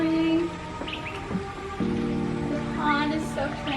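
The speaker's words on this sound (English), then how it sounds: "waking up to the sound of birds chirping and water flowing." Birds chirp in short, scattered tweets above a steady wash of flowing water beside a tranquil pond and pool in Bali, with the water constant and the calls moderately close.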